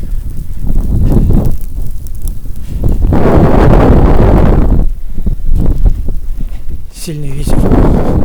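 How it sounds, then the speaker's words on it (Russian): Strong gusty blizzard wind on Kamenny Island in winter buffets the microphone in loud roaring bursts that surge and drop, with brief rustling between the gusts. "смотрите, какой сильный ветер"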